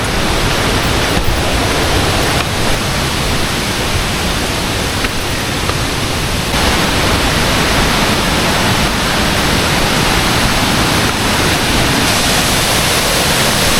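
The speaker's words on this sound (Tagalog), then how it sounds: "Yun ang second falls" Roaring, constant rush of the second falls at Bukal Falls, loud and close, a dense unbroken wash of falling water with no voices over it.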